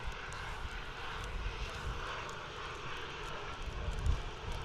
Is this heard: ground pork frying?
no